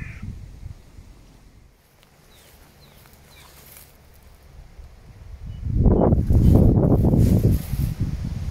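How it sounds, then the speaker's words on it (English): Outdoors in a field during metal detecting, a crow caws repeatedly and loudly in a burst of harsh calls toward the end, after quieter rustling and ambient sound. "Oh, you stupid bird."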